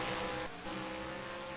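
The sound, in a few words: race cars racing on track, from NASCAR Racing 2003 video game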